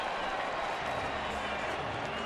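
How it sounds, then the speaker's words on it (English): A ballpark crowd at a Cubs-Phillies baseball game applauds a one-out walk, a steady wash of clapping and cheering that holds evenly loud through the whole moment. "Crowd applauding the walk."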